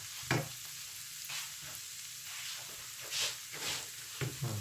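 Mixed mushrooms, including king oyster mushrooms, stir-fried with ginger and basil in a pan, giving a steady hiss of sizzling oil. Occasional scrapes and stirring knocks punctuate it, with no voices.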